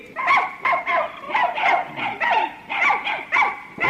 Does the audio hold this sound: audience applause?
no